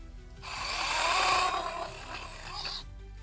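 A PRO-CRAFT PKA46 cordless saw cuts into a cherry-plum branch, a steady high buzzing whine that swells and settles for about two and a half seconds before cutting off, close and loud.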